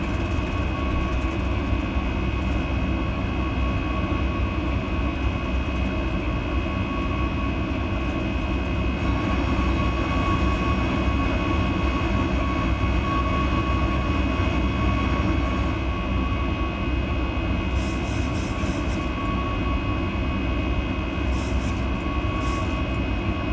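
A Boeing 737 Max 9 drones steadily in flight in the X-Plane 11 simulator, a constant low engine rumble with tonal whine holding level throughout, with faint brief clicks near the end.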